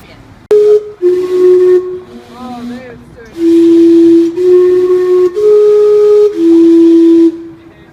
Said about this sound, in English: I visit my old favourite steam clock